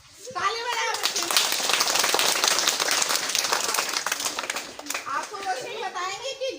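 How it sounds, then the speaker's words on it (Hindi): A group of children in a special class clap their hands together in a loud, sustained burst of applause that rises quickly and fades after several seconds, with young voices chattering underneath. "ताली बजाओ बच्चे।"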